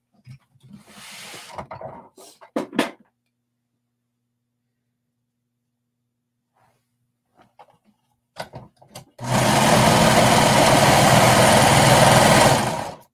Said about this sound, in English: we're going to just sew along the shoulder here using a 1/4 inch seam allowance